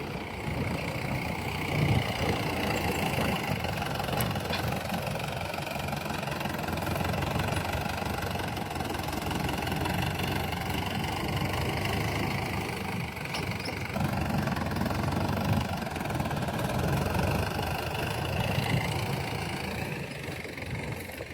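A tractor engine runs steadily in a farm field, a loud, continuous mid-to-low rumble with a faint knocking texture and no pauses, heard close up and alone without any talking.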